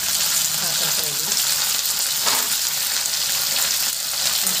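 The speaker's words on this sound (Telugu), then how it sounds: "కాకరకాయలు ఫ్రై చేసుకున్నాం" Bitter gourd (kakarakaya) frying in a pan gives a steady, loud sizzling hiss throughout, with faint stirring and a soft background voice murmuring.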